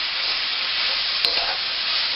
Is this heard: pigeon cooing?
no